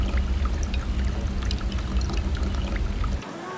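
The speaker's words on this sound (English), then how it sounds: "50 to 100 pounds of molten aluminum, now at over 1300 degrees Fahrenheit, is poured into the steel mold" Molten aluminum at over 1300 °F, some 50 to 100 pounds of it, pours into a steel wheel mold in a factory, giving a loud, steady rushing pour that cuts off sharply near the end.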